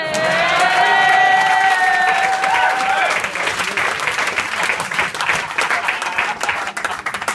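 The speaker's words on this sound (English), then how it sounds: "we probably deserve a little round of applause" Wedding reception guests give the groomsmen a loud round of applause with some cheering, the clapping dense and sustained at first over lingering tonal sound, then thinning and continuing steadily to the end.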